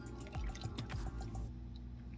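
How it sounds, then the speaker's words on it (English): An egg mixture pours over bread and cheese in a casserole dish for a sausage and egg breakfast bake, giving soft wet dripping and splashing glugs for a couple of seconds before fading. "I'm going to take the mix and pour it over the top of the bread and"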